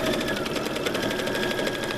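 A sewing machine stitches a kitchen towel in a rapid, even mechanical whir with fast repeating needle clicks, close and continuous without pause.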